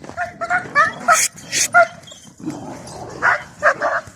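Several sharp dog barks and yips in quick bursts, fairly close, with a brief pause midway before more barking.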